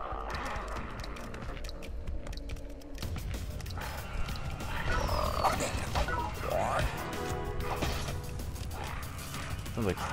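Video game frogs croak and scuffle amid dense game sound effects, creaks, thuds and crashes layered over a busy, continuous mix, with a person talking throughout.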